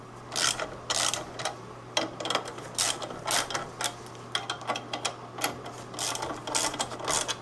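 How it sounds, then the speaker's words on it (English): Clutch bolts on a 1977 BMW R100RS motorcycle are tightened with a ratchet, giving close, repeated bursts of quick clicking separated by brief pauses over a low steady hum. "what I can do now is just start to tighten up all of these bolts more or less uniformly"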